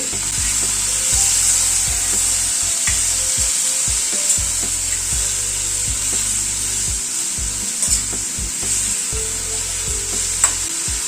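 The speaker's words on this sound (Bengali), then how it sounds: "মশলাটাকে একটু হালকা করে ভেজে নিচ্ছি আগে।" Spice masala with turmeric, salt and five or six cashews frying lightly in a pan, a steady sizzle under repeated scraping and stirring strokes that keep a rough rhythm, close and fairly loud with no talking.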